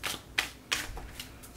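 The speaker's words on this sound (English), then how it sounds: "a couple more shuffles here." Quick, crisp riffling bursts of tarot cards being shuffled, three or four short flurries at close range.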